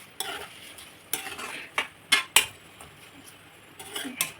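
A homemade hair oil mixture being stirred in a pan, with a spoon scraping and clinking against the metal in scattered strokes over a faint background hiss.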